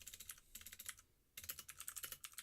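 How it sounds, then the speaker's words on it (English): Rapid clattering keystrokes on a mechanical keyboard, close and crisp, in two bursts separated by a short pause, with no voices. "I am also sorry about my mechanical keyboard, but I love it."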